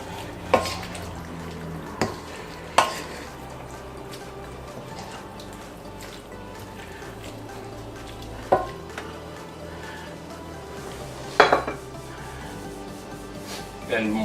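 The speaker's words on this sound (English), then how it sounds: "one more, and just want to give it a stir" Onions are stirred in a pan with a spatula, giving sharp scrapes and clinks against the metal over a faint, steady sizzle, with a few spaced utensil knocks and quiet, sparse background sound.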